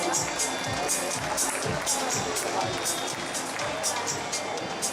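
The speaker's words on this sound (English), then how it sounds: "I will give her a round of applause, everyone" A pageant audience claps for a contestant at a grand finals event, dense steady applause filling the hall with a continuous crowd texture, a voice faintly audible underneath.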